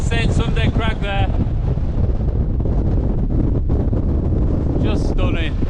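Strong wind buffets the microphone on Hart Crag summit in the Lake District, a loud continuous roaring rumble, with someone briefly speaking over it at the start and end.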